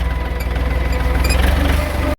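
A tractor engine chugs loudly and close at low revs while reversing, a steady rhythmic diesel throb that cuts off abruptly at the end.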